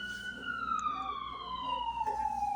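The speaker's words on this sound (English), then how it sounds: "Maybe that ambulance has come for me." An ambulance siren passes by, a steady wailing tone that slowly drops in pitch as the vehicle moves along, over a low bed of street and traffic noise.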